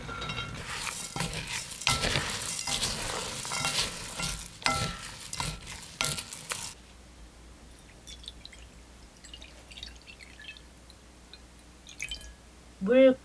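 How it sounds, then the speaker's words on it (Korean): Five-grain rice ingredients being mixed by hand in a bowl, a few seconds of dense rustling and clattering grains, then quieter scattered clicks and a brief rattle at the end. "밤을 제외한 모든 재료를 넣어 골고루 섞어주세요."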